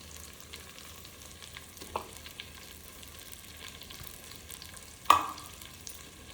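Stuffed brinjal in masala being stir-fried in a pan, a low continuous sizzle with faint stirring scrapes and one sharp clank of the spatula against the pan, quiet and close, no talking.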